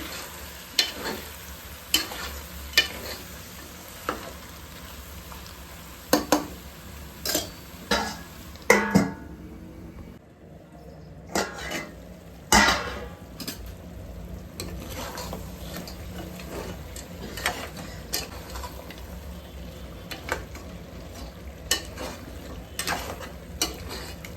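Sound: stirring goat head meat frying in a pot

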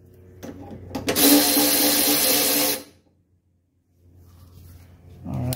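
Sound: wrench unscrewing a sway bar end link nut on a Mercedes 300D

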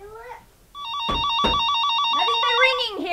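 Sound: telephone ringing

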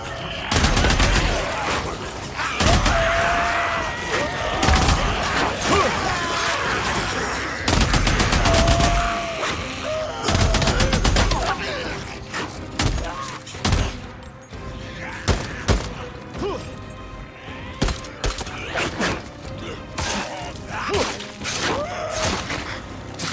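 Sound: gunshots in a video game

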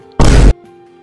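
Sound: explosion magic blast in video game Arcane Odyssey

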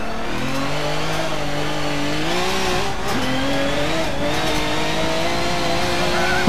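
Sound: race car driving and sliding in video game Forza Motorsport

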